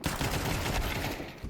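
Rapid gunfire from the video game Counter-Strike 2, a dense, continuous burst of overlapping shots that fills the whole moment at steady loudness, with no talk over it.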